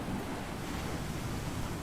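Steady, loud surf noise washes continuously near the water's edge on an island shore, a dense roar of waves with a windy rumble and no pauses.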